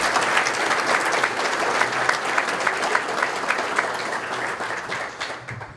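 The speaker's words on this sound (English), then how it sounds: "If you'd please give them a round of applause." A banquet crowd at a softball hall of fame dinner in a hotel gives sustained, even applause that stays close and full before tapering off at the end.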